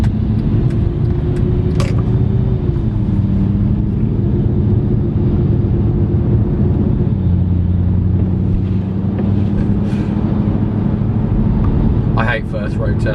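A salvaged Mercedes C63 drives on the road, its engine a constant low rumble with shifts in pitch as it changes gear, heard from inside the cabin alongside a few brief knocks and clicks.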